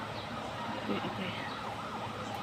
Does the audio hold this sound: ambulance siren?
yes